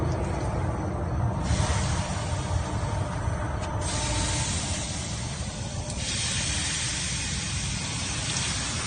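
Water hisses and steams as it is poured onto the hot brake rotor hub of an E-350 cutaway van, a loud, steady spray-like hiss with shifts in intensity throughout.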